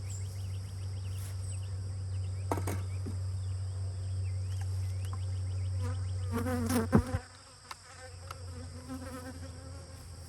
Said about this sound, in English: lot of bees right in here. A lot of bees there.